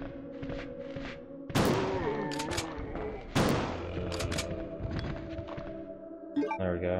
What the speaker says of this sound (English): because my gun fires in 3-round bursts